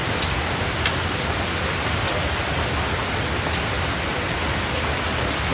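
Heavy rain pours down in a loud, continuous hiss with scattered sharper drip and splash ticks, steady throughout with no voices.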